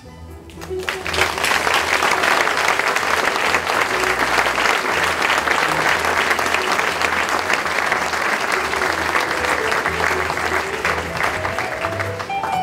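A school anniversary concert audience bursts into loud, sustained applause for the teachers and staff, dense clapping with some cheering that holds steady for over ten seconds while music plays low underneath.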